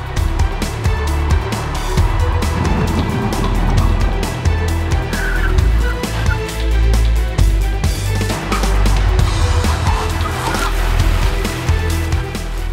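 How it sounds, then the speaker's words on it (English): A Mercedes-Benz CLA fitted with counterfeit brake pads braking fully from 100 km/h: a continuous loud rumble of tyres and road noise with squealing tyres, steady throughout and close by. "In a moment, I will fully apply the brakes from a speed of 100 kilometers per hour."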